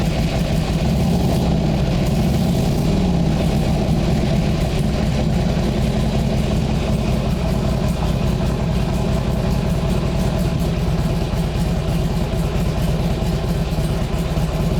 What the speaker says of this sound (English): It's got that early Harley exhaust note from that fishtail muffler.